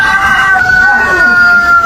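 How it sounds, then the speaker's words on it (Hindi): A dog answers a rooster by copying its crow, letting out a loud, close, sustained wavering call that rises and bends like a cock-a-doodle-doo. "ये मुर्गा जोर से चिल्लाता है और उसे देखकर सामने बैठा ये कुत्ता मुर्गे को कॉपी करने लगता है"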